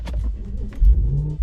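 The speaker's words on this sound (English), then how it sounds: "Start the car up." Audi RS5 engine firing up, a close, loud low rumble that swells into a deep surge and settles into a steady idle, with no voices.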